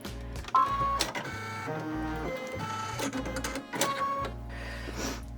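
An embroidery machine stitches the outline of a pendulum mat with a rapid, steady mechanical chatter and whir. Busy tonal background music runs underneath throughout.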